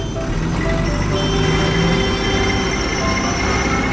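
A small train rumbles along its rails with a steady, continuous rolling clatter, fairly loud and close, with faint tonal whines over the noise.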